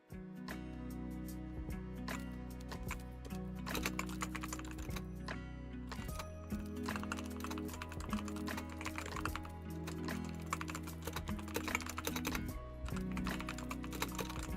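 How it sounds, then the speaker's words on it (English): Computer keyboard typing runs steadily throughout, a dense, continuous patter of close key clicks and clacks with no talking, as if someone is writing up notes. "keyboard ASMR locking in"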